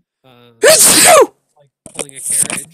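A single loud, sharp sneeze bursts out close to the microphone during a tabletop game session, set between stretches of ordinary speech.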